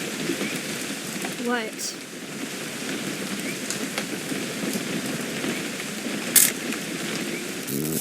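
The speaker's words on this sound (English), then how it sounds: "It's gonna rain the whole weekend, isn't it?" Steady rain in What Remains of Edith Finch patters on surfaces throughout, a constant hiss with occasional louder drops, while voices speak briefly over it.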